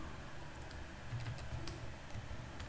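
Typing a field name on a computer keyboard, a quiet close run of irregular key clicks in short bursts with no one talking.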